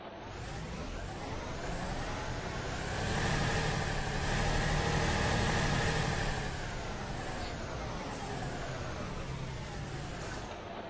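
A Jelcz 272 MEX bus engine in the OMSI bus simulator game revs up and holds a steady roar, then settles back, with sharp hissing bursts like air brakes near the end.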